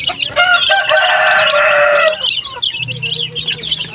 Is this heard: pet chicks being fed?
yes